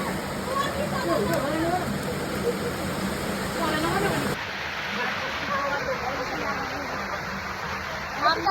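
Steady rain falling outdoors in a natural scenic spot, a dense continuous hiss throughout with a shift partway through, no voices.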